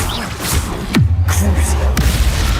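A Bombarda explosion spell in Hogwarts Legacy, a battle against goblins, lands as a loud low boom near the middle with a sharp crack at its start. A deep rumble holds afterward and a second blast hits late.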